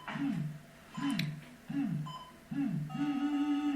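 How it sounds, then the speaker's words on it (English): Two radio frequency detectors placed side by side beep at a phone's wireless signal. Four near, rhythmic chirping tones repeat about once every three-quarters of a second, and the last one holds into a steady tone. "These are radio frequency detectors, and I put two next to each other so you can see they send out the same signal."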